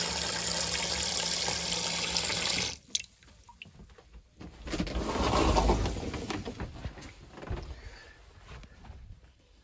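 Water runs from a freshly descaled tap, a steady loud rushing that breaks off abruptly after a few seconds, then returns as a softer, uneven splashing flow.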